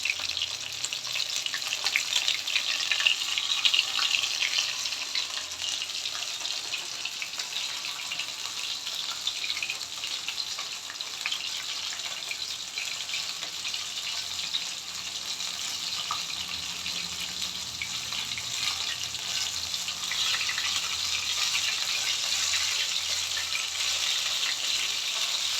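Loitta (Bombay duck) fish cutlets frying in a pan, a steady broadband sizzle that holds evenly throughout, close and fairly loud with no talking.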